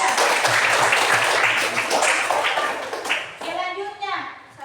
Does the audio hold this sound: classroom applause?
yes